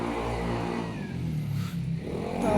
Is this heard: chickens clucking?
no